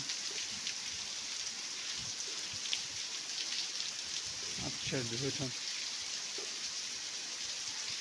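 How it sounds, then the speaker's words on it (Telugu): Rain splashes down steadily around a school bus near a Shiva temple, a soft, even hiss at moderate distance, with a voice briefly speaking over it. "ఆ స్కూల్ బస్సు చూడండి, వర్షం ఎలా చిందులు వేస్తుందో."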